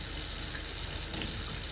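Hot water runs steadily from a sink faucet in a 2025 Forest River Cardinal 36MB RV, a continuous close hiss and splash with no talking.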